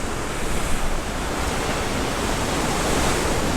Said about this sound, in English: Just down there, the water is just churning with these big fish.